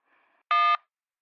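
A single loud, clear keypad beep sounds as a button is pressed in an automated phone menu, preceded by a faint tone.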